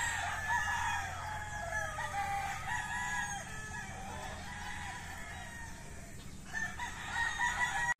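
A rooster crows repeatedly at a distance over a steady rural background hum, with hens clucking in between.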